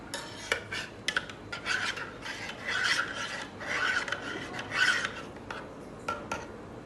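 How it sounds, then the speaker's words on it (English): A spoon stirs coffee in a glass, making a steady series of soft scraping, rasping strokes at moderate volume with no voices. "And then stir it gently."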